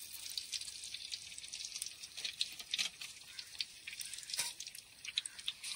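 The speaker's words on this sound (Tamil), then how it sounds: "தேவையான அளவுக்கு கடுகு போட்டுக்கலாம்." Mustard seeds crackle and pop in hot oil for a traditional Tamil meen kulambu fish curry, with scattered close sputters and small bursts throughout and no talking.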